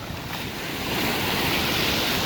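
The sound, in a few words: ocean waves on the northern coast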